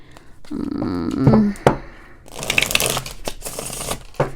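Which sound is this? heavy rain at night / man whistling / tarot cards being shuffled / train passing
tarot cards being shuffled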